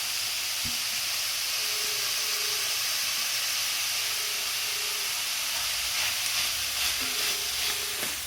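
Bitter gourd frying in a pan, a steady broadband sizzle and hiss running throughout, close and fairly loud, with faint clinks near the start and end and no talking.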